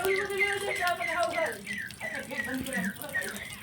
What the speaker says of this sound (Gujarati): જો પાણી હજુ ચાલુ જ છે.